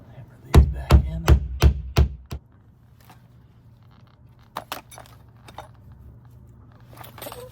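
Trim pieces for a chicken coop door being hammered back in: about seven sharp, close blows in quick succession, then a pause and a few lighter taps.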